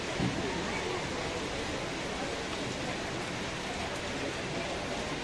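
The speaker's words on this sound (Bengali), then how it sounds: "খুব সুন্দর লাগছে এরকম বৃষ্টি" Heavy rain pouring in Gangtok, Sikkim, a dense steady hiss of downpour filling the whole stretch, loud and unbroken, with a voice faintly under it.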